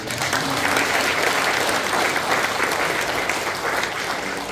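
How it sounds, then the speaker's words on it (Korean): An audience at a regional academy lecture breaks into steady applause for a guest speaker, a former national agricultural cooperative chairman, with a thick, even clapping sound that holds for the whole moment. "박수 한번 쳐주십시오"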